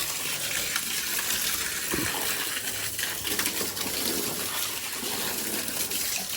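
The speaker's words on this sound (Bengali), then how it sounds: "পাইপটাকে আগে সোজা করে তারপরে জল দেবো ঘরের মেঝেতে বেশি করে জল দিই যাতে মাটিটা বসে" Water from a hose pipe pours steadily onto a dirt floor inside a house under construction, a continuous broadband gushing and splashing that stays even and fairly loud throughout with no talking.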